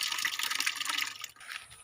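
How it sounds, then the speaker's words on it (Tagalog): Water running from an opened faucet on a coconut farm, a steady bright splashing flow that fills the clip before briefly dipping and resuming more softly, with no talk. "Ayan na po, bubuksan ko na po yung gripo."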